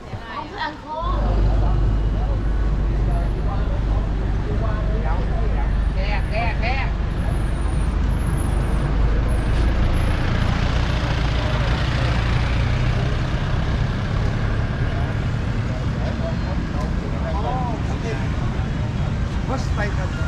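Busy street traffic around Ben Thanh Market in Vietnam, with a bus and other engines rumbling close by and a constant roadway roar, while people talk over the noise throughout.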